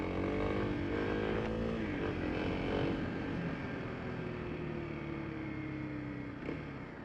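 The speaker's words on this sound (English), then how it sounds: "Okay, the bike warming up a little bit." A motorcycle engine idles steadily while warming up, a moderate, even rumble with a slight revving swell early on and a few sharp knocks or rattles near the end, with no voices.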